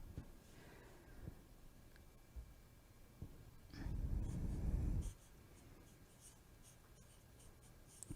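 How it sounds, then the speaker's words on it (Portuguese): Marker or chalk writing on a classroom board, faint scratchy strokes with a louder rubbing passage in the middle, in a quiet room. "vou escrever aqui."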